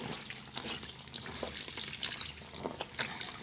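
Clothes are swirled by hand in a basin of water with fabric softener already added, producing continuous close sloshing and splashing with brief gurgles; no talking.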